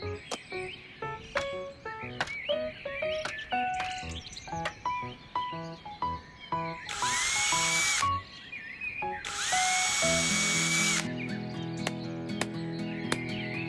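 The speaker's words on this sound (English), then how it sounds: "Hand me the drill, please." Two bursts of a power drill whirring loudly, each lasting a second or two, amid bright chirpy musical notes and cartoon sound effects in an animated fairy tale.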